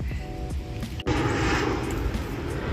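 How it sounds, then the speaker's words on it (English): A fixed-wing airplane passes overhead outdoors during a brake job on a 2019 Hyundai Elantra, its engine drone swelling to a loud, steady roar after a brief metallic clunk near the start. "these planes keep on flying by."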